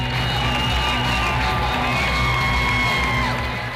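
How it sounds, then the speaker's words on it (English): Families cheering and whooping for soldiers returning home from Afghanistan, a loud continuous crowd roar with shouts and children's voices rising through it. "105 soldiers returned home from Afghanistan to their cheering families."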